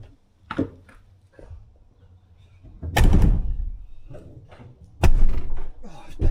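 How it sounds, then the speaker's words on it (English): Two heavy metal slams of a van's back doors, a few seconds apart, loud and close, each with a rattling, booming tail, after some quieter fumbling clunks. "just got to quickly shut the back doors"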